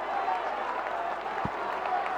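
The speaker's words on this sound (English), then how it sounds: "Nazmul Shanto, round of applause from his teammates." A cricket crowd in a Test match stadium applauds steadily as Bangladesh's captain reaches a century against Ireland, a moderately loud, continuous wash of clapping with a faint murmur of voices.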